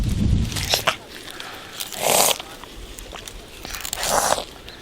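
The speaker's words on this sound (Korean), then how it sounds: "능숙한 솜씨로 수수대를 꺾어 줄기를 씹는 아이" A teenage child in a dried-out sugarcane field in Tanzania snaps and bites into a dry stalk, giving several sharp crunches and cracks spaced a second or two apart, close and loud with quiet between.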